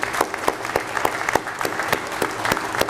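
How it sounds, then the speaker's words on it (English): An indoor audience applauds at a college science and math building dedication. The clapping is steady and moderately loud, with distinct individual claps, lasting a few seconds and no talk. "I think that we need to give a round of applause to President Hart and Vice President Kearns"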